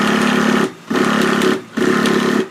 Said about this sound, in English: turn the engine. It's going to push most of the fuel out into the muffler